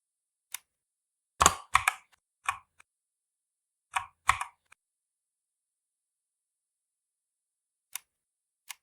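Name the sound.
typing on a computer keyboard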